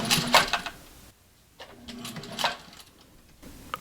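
A sewing machine back stitches over the elastic on a fabric face mask, giving two short bursts of rapid mechanical stitching separated by a pause, close and fairly quiet.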